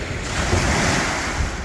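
Waves wash along the Bridport foreshore in Tasmania with a steady, broadband surf rush blended with wind buffeting the microphone, continuous and fairly loud with no voices.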